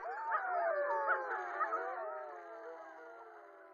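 Several Anatolian wolves howl together in a layered chorus of long, wavering, overlapping tones that slowly fade, with no other sounds.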